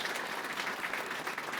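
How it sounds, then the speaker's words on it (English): An audience gives a round of applause after a presentation, a brief dense patter of many hands clapping at a moderate distance, fairly faint. "And a round of applause from you."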